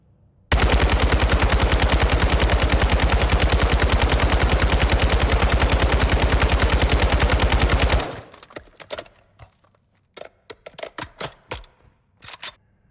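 A sustained, rapid burst of fire from an RPK machine gun in a video game rattles loudly and evenly for about seven seconds. Scattered sharp clicks and single reports follow, with no talking.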